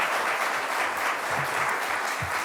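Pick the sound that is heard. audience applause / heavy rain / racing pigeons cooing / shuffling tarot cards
audience applause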